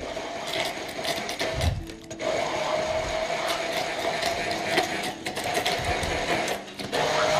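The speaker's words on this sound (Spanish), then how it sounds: "Lo pueden hacer con la licuadora normal o con esta de mano." Hand blender whirring steadily as it purées a chili sauce, a continuous motor drone with brief dips where the blade shifts, close and fairly loud with no talking.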